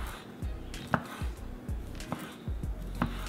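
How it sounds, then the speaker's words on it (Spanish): Smoked sausages sliced into rounds with a knife on a cutting board for charro beans, giving a steady series of crisp chops about every half second, close and clear with no talking. "aquí solamente las voy a cortar en rodajitas"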